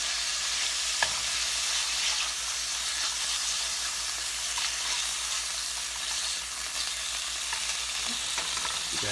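Thick-cut bacon sizzles and spits in hot grease, a loud, steady crackling hiss that runs without pause from start to finish.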